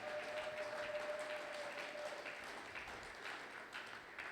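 A church congregation at a Sunday worship service applauds and cheers for Jesus, a steady wash of clapping and crowd noise at moderate distance throughout, with one sustained tone held briefly under it.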